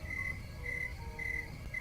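A cricket chirping sound effect trills in short, evenly spaced bursts, four pulses in under two seconds, loud and clear over a faint low rumble.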